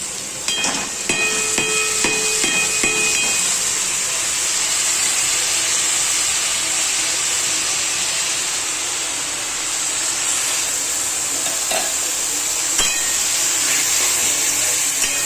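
Vegetables dropped into a hot pan, a loud continuous sizzle and hiss throughout, with occasional scraping and clinks from stirring, close by and without talk.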